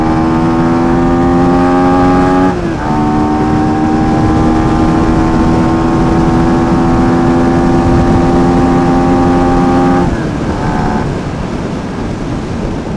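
A Rusi Flash 150X motorcycle with a DOHC four-valve fuel-injected engine runs loud and close, holding a steady drone with two brief dips in pitch as the revs shift.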